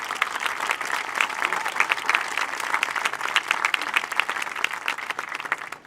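Applause from an audience at a school parents day honouring parent volunteers, a dense steady wash of many hands clapping throughout, fairly loud and continuous without talk.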